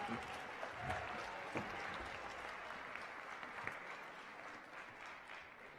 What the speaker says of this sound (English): One more round of applause for all of our D-Queens.